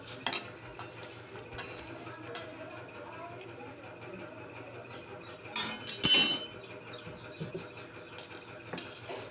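Potatoes going one by one into water in a wok (kadai), giving a run of close, intermittent clinks, knocks and light splashes, with a louder cluster of impacts near the middle against a low steady background.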